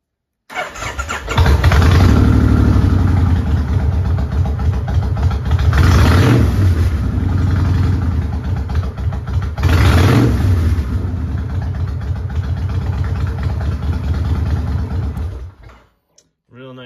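A 2008 Kawasaki Vulcan Mean Streak 1600 fuel-injected motorcycle engine starts up and runs loudly, with two strong throttle revs rising and falling over a steady rumble before it shuts off.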